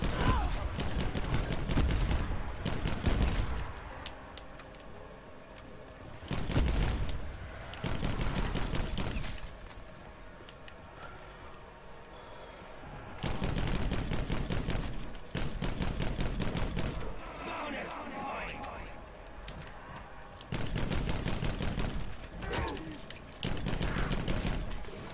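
Bursts of rapid automatic fire from a Pack-a-Punched gun with no camo in Black Ops 4 Zombies, Blood of the Dead map, on Alcatraz. Several loud, close volleys are separated by quieter gaps, with talk in between.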